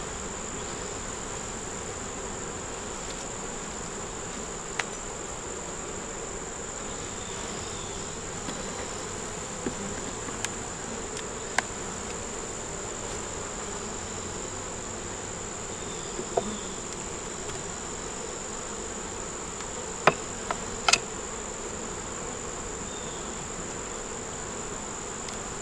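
Honey bees buzz steadily around an open backyard hive during an inspection, a continuous close hum with scattered sharper clicks and knocks from handling the frames.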